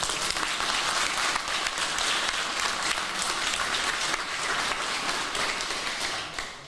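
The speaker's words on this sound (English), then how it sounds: "Ladies and gentlemen, the men of 78, give them a round of applause." A crowd gives a loud, sustained round of applause for the men of 78 at a Sligo county football final-week gathering, with dense, even clapping that fills the whole stretch before easing slightly at the end.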